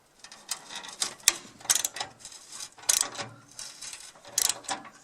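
A wrench loosening a 7/16 bolt on the hinge of a wood stove bypass door, heat-tightened and partly stripped, gives a series of close metallic ratcheting clicks in irregular bursts, with no talking.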